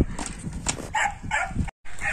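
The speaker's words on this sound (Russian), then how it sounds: "Собаки раздираются, гулять хотят." Dogs barking outside a house, eager to be taken for a walk; a few sharp barks come in quick bursts amid faint background noise, with a brief dropout near the end.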